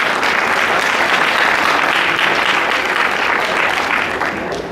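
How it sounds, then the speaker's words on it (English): A large audience gives a big round of applause after the President of Nigeria, Goodluck Ebele Jonathan, is introduced, a loud, dense, continuous roar of clapping lasting several seconds. "Please let's give him a big round of applause."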